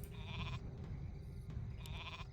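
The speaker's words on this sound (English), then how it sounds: "Little sheep farm over here." Sheep bleating on a farm in the Warcraft III strategy game, two short wavering bleats, one at the start and one near the end, over a low constant game soundscape.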